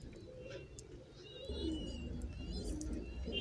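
Pigeons coo softly in a loft, low murmuring calls overlapping steadily, with a few faint chirps and light rustling in the background.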